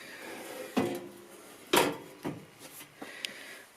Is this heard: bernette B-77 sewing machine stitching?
no